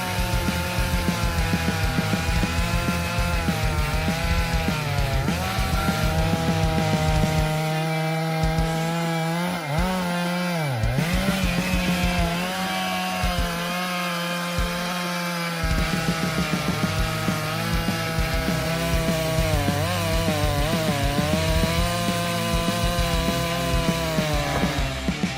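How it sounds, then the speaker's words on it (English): A chainsaw cuts through large tree logs in a long, continuous, loud run, its engine pitch rising and sagging as the chain bites into the wood. "Using his favorite chainsaw, he sawed down one tree at a time"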